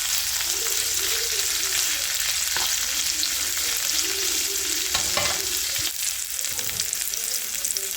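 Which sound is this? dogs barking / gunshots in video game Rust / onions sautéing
onions sautéing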